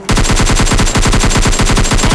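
Rapid automatic gunfire from a mobile battle-royale shooting game, a loud, steady burst of evenly spaced shots running without pause for about two seconds, with no talk over it.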